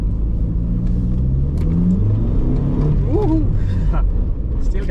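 A 1996 VW Passat Syncro's engine revs up loudly while the car drives, a steady close rumble rising in pitch partway through, with someone talking over it.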